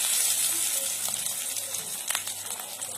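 Red flower pakoras fry in hot oil, a soft, close sizzle with scattered crackles and pops that flare briefly near the middle.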